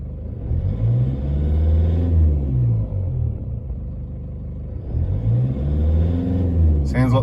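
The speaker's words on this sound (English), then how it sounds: "Sounds like the one injector not quite right, kind of tappy noise." A Toyota Hilux diesel engine with a faulty injector idles close by, its low rumble rising and falling in two slow swells with a tappy, uneven knock underneath.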